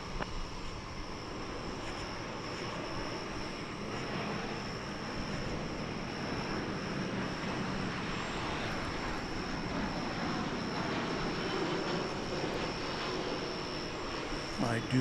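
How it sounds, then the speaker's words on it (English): A Boeing 787 Dreamliner arriving at DFW Airport gives off a steady, broad jet roar that holds at an even level throughout, heard from some distance with a faint high whine on top. "I do believe we have a Dreamliner arrival there."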